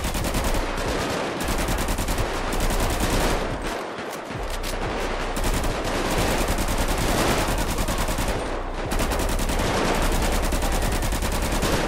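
Continuous rapid automatic rifle fire, loud and close, in dense bursts with only brief gaps, from Grand Theft Auto V gameplay.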